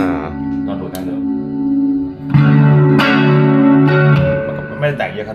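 A Fender Bruno Mars Stratocaster played through a Roland Jazz Chorus JC-77 amp, sustained clean chords and single notes with a shimmering chorus effect, loud and close, ringing out over several strums.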